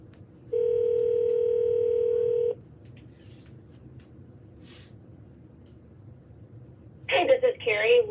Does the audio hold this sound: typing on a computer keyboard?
no